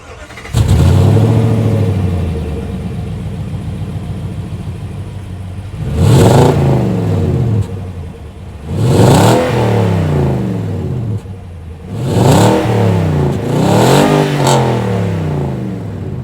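A 2024 Nissan Titan Pro-4X with its 5.6-liter Endurance V8 starts up and settles to a loud, rumbling idle, then revs three times in rising, throaty bursts, each falling back to idle, close and unaccompanied by voices.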